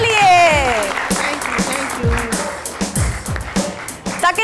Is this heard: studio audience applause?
yes